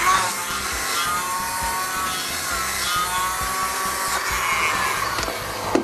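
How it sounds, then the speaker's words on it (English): Bevel sander grinding out the thumb hole of a used bowling ball, a steady high-pitched electric whine with gritty abrasive rasping, close and continuous. "We can do this by using a bevel sander,"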